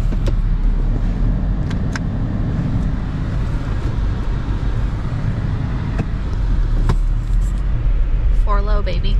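Engine of a Lexus GX V8 SUV rumbling steadily at close range while it is shifted into four-wheel drive low range, with a few faint clicks and a short high mechanical whine near the end.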